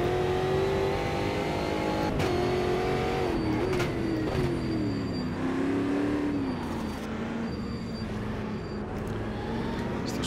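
A Stock Car Brasil race car in the racing game Automobilista 2 drones steadily from the cockpit, its engine pitch rising and falling through gear changes, with faint clicks over a continuous mid-level roar.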